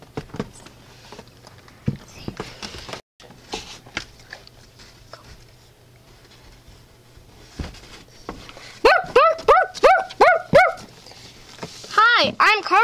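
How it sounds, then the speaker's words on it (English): Several dogs break into loud, rapid excited barking, a quick series of sharp barks near the end after a quieter stretch with pattering and light movement. "They bark because they're excited to meet new people."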